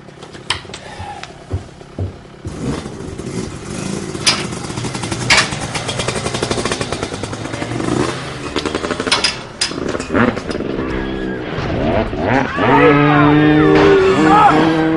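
Motorcycle engine revving and riding off, rising buzzy whine that grows louder toward the end, with shouting and voices underneath.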